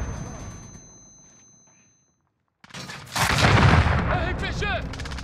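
A rocket-propelled grenade launch and blast in Call of Duty: Modern Warfare, a sudden loud burst after a quiet gap, followed by sustained roaring rumble and crackling battle noise with faint callouts.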